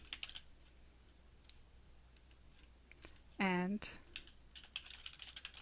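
Scattered keystrokes tap on a computer keyboard as a search is entered, quiet irregular clicks with a short beep-like tone in the middle and a voice speaking briefly.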